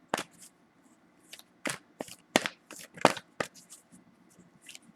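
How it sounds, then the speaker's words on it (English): Oracle cards being shuffled by hand, a series of sharp riffling bursts in uneven rhythm with quiet gaps between them, close and fairly soft. "Let me shuffle one more time."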